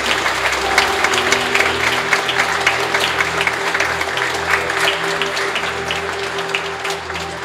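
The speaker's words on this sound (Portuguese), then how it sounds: "Vamos aplaudir esses pais que entregam seus filhos diante do amor de Deus." Applause at a church wedding ceremony, a sustained crowd clapping evenly and loudly throughout without speech.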